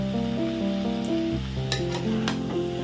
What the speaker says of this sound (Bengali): এবারে এটা আবার ভালো করে মশলার সাথে কষিয়ে নেব